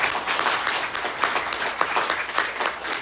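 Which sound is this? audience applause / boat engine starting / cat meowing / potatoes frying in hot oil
audience applause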